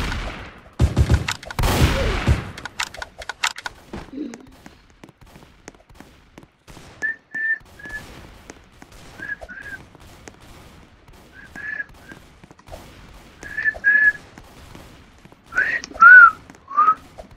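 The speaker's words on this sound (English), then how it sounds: "My whistling sucks, but you're gonna deal with it a little bit." A person whistles a short, wavering tune in several separate phrases during a Roblox shooting game, after a dense burst of gunfire at the start. The whistling is fairly close and gets louder toward the end.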